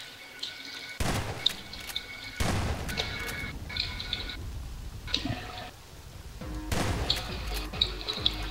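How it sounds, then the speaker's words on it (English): Shotgun blasts in Garry's Mod PropHunt, several loud booming shots spaced apart with splashy, crashing tails amid game noise. "You can't hit water bottles with a shotgun."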